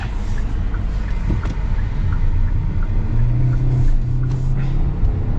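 A 2025 Kia Soul driving on the road, its steady engine and road rumble continuous and fairly loud throughout, with a low drone swelling slightly as it moves.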